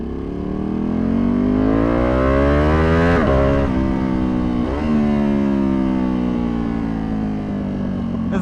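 A tuned Ducati Panigale V2 ridden on a street, loud and close, revving up through repeated gear shifts with rising engine pitch, then dropping and climbing again.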